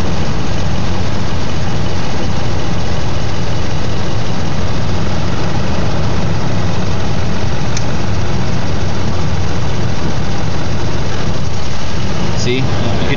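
A CNG V8 engine running steadily during dual-fuel overlap calibration, a loud continuous low rumble with an even idle-like drone and a brief click near the end.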